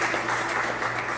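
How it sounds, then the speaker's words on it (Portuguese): A church congregation applauds the Lord during a worship service, with steady, even clapping filling the moment at close range. "Vamos aplaudir ao Senhor."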